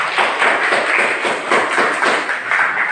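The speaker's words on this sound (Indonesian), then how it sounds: "Beri aplaus kepada teman kalian" A classroom of students applauds a classmate who answered a question about social conflict, a dense, even burst of clapping from many hands that carries on for about three seconds with no voices over it.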